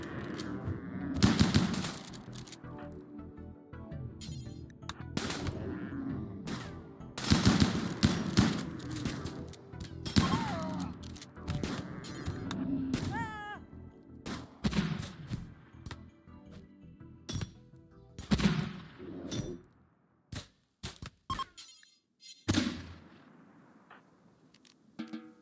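Gunfire in the colony-sim game Rimworld, with a shotgun among the weapons, heard as repeated loud, sharp bursts of shots in uneven clusters separated by brief pauses, with faint clinks between volleys.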